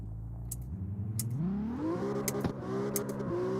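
Video game car engine revving, dropping in pitch as it shifts, then climbing again with short bursts of higher whine; steady, close and loud with no talking.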